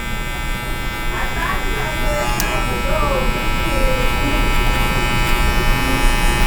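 Electric hair clippers buzz steadily and loudly at close range during a mid fade haircut, a continuous droning hum while someone talks over it.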